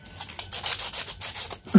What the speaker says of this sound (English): So now we've smoothed the edges on both sides